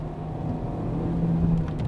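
A Mazda ND Roadster engine pulls on a mountain road, a low, steady drone that builds gently in loudness over two seconds, heard from inside the car with no voices.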